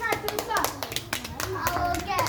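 Schoolchildren clapping in a classroom during an arithmetic activity, scattered uneven claps mixed with children's chatter and voices throughout.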